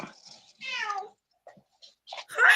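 A cat meows close by, one long drawn-out meow followed by shorter chirpy calls, with brief quiet gaps and a person's voice mixed in.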